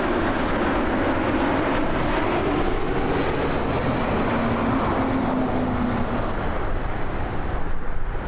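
Regional jet climbing away after takeoff at Toronto Pearson Airport, a steady broadband engine roar holding loud throughout with a faint droning tone, no voices.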